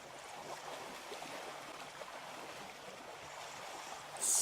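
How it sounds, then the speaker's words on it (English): Buffaloes wading through water on a sunset safari drive, a steady, fairly quiet swishing and sloshing that carries on without a break, with a brief sharper splash near the end and no voices. "You hear the sound of these buffaloes swishing through the water,"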